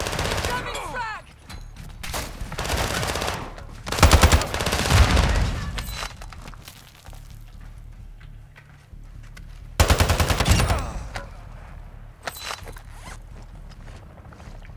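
Automatic weapons fire in Call of Duty Warzone on Ashika Island, with dense rattling bursts and two heavy loud volleys over constant game noise. Players talk through parts of the fighting.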